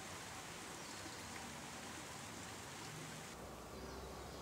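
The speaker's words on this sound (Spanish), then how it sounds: "Las lluvias repentinas son frecuentes." Steady, dense rain hissing continuously throughout, a broad wash of falling water with no voices or distinct drops standing out.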